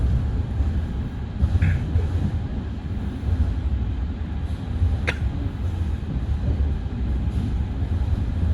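Gumarang passenger train pulling out of Pekalongan station, a steady low rumble of wheels and carriage noise heard from inside, with a sharp metallic click near the middle and faint brief squeals.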